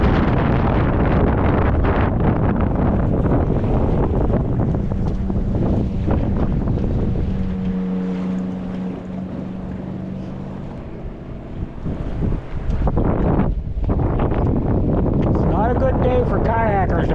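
A strong gust of wind buffets a sailboat out on open water, roaring in heavy rushes and flapping against the microphone, with a voice talking over it.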